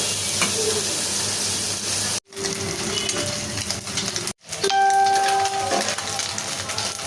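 Onion, tomato and eggplant fry in a pan with a moderate sizzle and occasional stirring, broken by two brief silent gaps.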